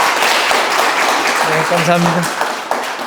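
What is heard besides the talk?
audience applause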